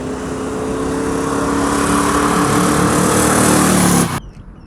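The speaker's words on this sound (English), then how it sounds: "Some burnouts." Ford F100 truck engine roaring loud and sustained through a burnout, a steady broadband revving roar with tire noise that cuts off abruptly near the end, leaving quieter idle.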